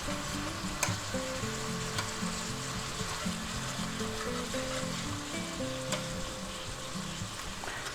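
Pork, straw mushrooms, minced garlic and a splash of rice wine sizzling steadily in a hot stir-fry pan, with a spatula scraping and tossing the ingredients now and then.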